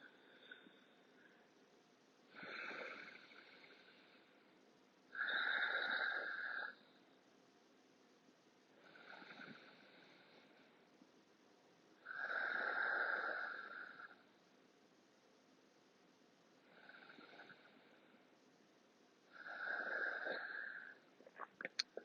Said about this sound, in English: Breathing in and out just through the nose